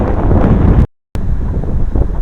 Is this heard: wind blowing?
yes